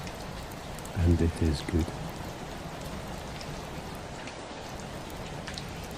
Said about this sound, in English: The rain intensifies briefly against the window, a sudden heavier wave of it